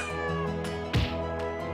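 A cat meows in a video game, a short near call over a steady, tonal game soundtrack, with a few faint clicks around it.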